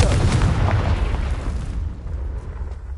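Confringo fire spell exploding in Hogwarts Legacy: a loud, rumbling blast that rolls and gradually decays into a fading low roar.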